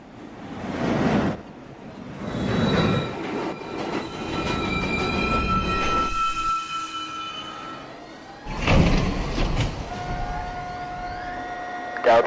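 A downtown local 1 train on the New York City subway pulls into Chambers Street station, a loud rumbling approach with rail noise and squealing wheels, steady through the clip and building again near the end.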